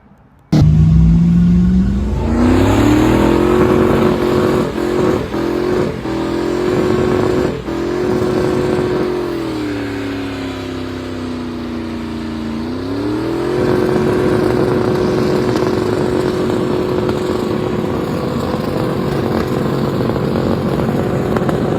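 A heavy duty truck revs hard doing burnouts, the engine climbing and falling in pitch through several sustained surges with a loud, continuous roar close to the microphone.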